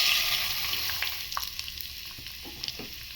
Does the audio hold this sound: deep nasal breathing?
no